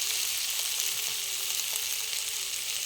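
Onions, turmeric and spices frying in a pan at an outdoor riverside picnic in the Sundarbans, a dense, loud, continuous sizzle with faint stirring scrapes and no talk.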